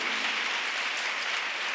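A church congregation applauds, a steady, full wash of many hands clapping that holds at an even level for the whole moment, with no speech.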